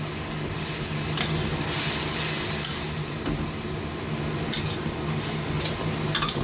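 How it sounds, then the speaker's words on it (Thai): Beef and water spinach with shrimp fat stir-fried in a pan, giving a loud, steady sizzle and hiss with a utensil scraping and tossing throughout, close and continuous, with no voices. "ผัดทุกอย่างให้เข้ากันนะคะ"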